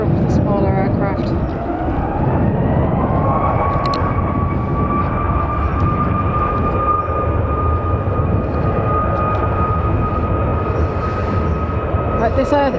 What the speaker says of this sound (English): it's an A350-900 Singapore Airlines from Singapore